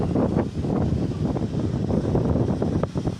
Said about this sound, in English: It's a bit breezy.